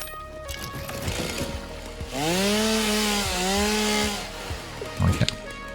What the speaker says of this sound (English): Can I chainsaw these?